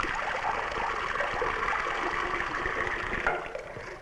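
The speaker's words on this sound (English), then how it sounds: "put water in a sink" Steady running water from a tap filling a sink with hot water, a continuous loud rush that tails off at the end, with no talk.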